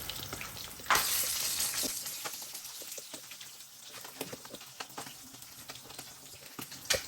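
Shrimp paste and pork sauté in a pan with a loud, steady sizzle and crackle, broken by scattered pops and occasional scraping stirs.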